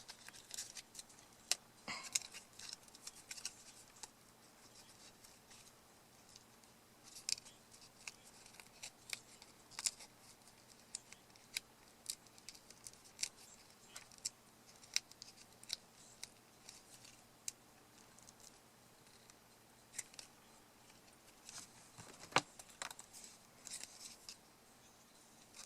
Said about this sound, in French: maintenant, je vais enlever en douceur le papier